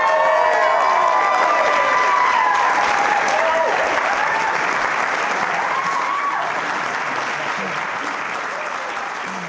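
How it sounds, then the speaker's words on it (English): Wedding guests break into loud, sustained applause with some cheering right after the couple is pronounced husband and wife, the clapping dense and close, slowly tapering over ten seconds. "I think that deserves a big round of applause."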